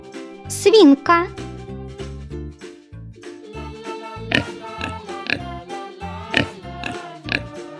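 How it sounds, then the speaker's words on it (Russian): Pig oinking in a children's cartoon about farm animals: several short grunting oinks scattered through the clip over playful music, with a voice chiming in. "Свинка."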